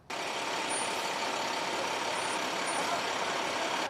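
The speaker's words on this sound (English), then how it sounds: "Public Works crews in Greensburg preparing their trucks ahead of this weekend's storm, attaching plows and filling up on salt." Public works trucks in Greensburg are readied for a winter storm, fitted with plows and loaded with salt. A loud, steady roar of engines and hissing air runs unbroken for several seconds before cutting off abruptly.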